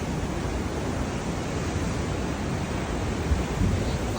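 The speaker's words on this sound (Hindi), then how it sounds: "कितनी तेज़ी से ये लहरें मेरी तरफ बढ़ रही हैं दोस्तों।" Cold ocean surf surges toward shore at Diamond Bay in Sydney, a broad, steady rushing wash of water and wind with a slight swell near the end, no voices.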